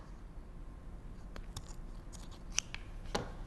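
Scissors snip through a hanging cord for a clay pot, a few quiet, crisp cuts near the end against a faint room hush.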